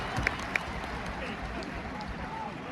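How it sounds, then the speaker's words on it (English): Football crowd at Molineux during a Wolves corner in a Wolves versus Fulham match, a broad, distant roar of many voices with a couple of sharp claps near the start, under speech. "You can hear the crowd."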